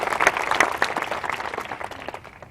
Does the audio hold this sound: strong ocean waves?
no